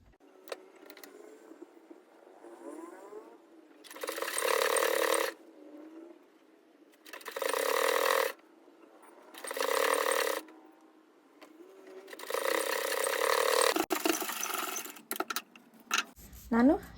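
A sewing machine stitches fabric in four or five loud bursts of a few seconds each, separated by quieter pauses with faint handling noise, close to the microphone.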